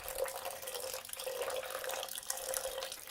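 Tap water runs steadily into a pan of rice being readied for meatless fried rice, a continuous close splashing pour with no talk over it.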